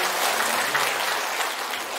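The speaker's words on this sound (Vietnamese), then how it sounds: "Cho một tràng vỗ tay." A round of clapping from the audience at a conference on therapy results, steady and moderately loud throughout, with no talking.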